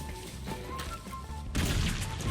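Muffled bursts of gunfire and explosions in Battlefield V, fairly quiet, with a louder crashing blast near the end.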